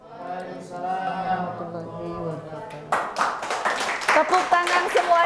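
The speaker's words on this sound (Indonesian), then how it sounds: "Tepuk tangan semuanya." An audience at a preaching competition breaks into sharp, close hand clapping that grows louder after a stretch of sustained speech or chanting from a voice.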